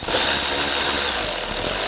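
A power tool runs continuously for a couple of seconds, snugging bolts on the front bumper cover of a 2009-2010 BMW 535i xDrive, a loud close whirring buzz with no talking.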